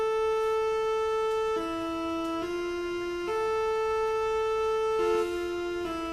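A sustained synth keys melody from a sawtooth patch in FL Studio plays alone, four bright held notes stepping between pitches in a simple slow sequence, each tone buzzy with rich stacked overtones and steady level.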